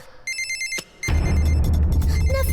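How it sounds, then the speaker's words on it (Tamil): A telephone rings in the Shiva action cartoon with a pulsed electronic tone for under a second. A loud, dense burst of noise follows and fills the rest of the clip. "போன் அட்டெண்ட் பண்ணி பேசாத வரைக்கும் அவன் டெய்லி கால் பண்ணிட்டே தான் இருப்பான்."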